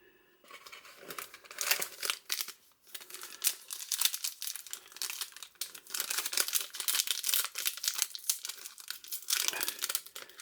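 A tightly sealed Panini Score Ligue 1 sticker pack is torn and crinkled open, with close, sharp bursts of tearing foil and crackling plastic coming in rapid, uneven runs.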